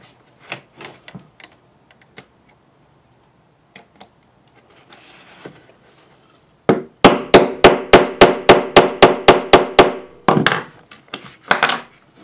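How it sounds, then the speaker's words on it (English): A plastic hammer strikes a button setter in a costume belt workshop, with a fast run of about twelve sharp, loud, evenly spaced taps, preceded by scattered quieter knocks and handling. "use the setter and a plastic hammer"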